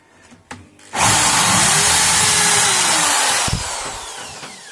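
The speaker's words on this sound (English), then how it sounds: "Not very sharp this drill bit" A few faint knocks, then a power drill with a dull bit whirs loudly at high speed for a few seconds before winding down, drilling holes in a Squier Affinity Telecaster guitar.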